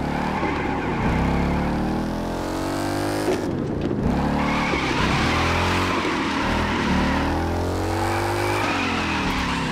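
Ford Mustang GT with a 5.0 V8 drifting in The Crew 2, its engine roaring steadily throughout with rising and falling revs and sustained tire squeal, loud and close with no talking.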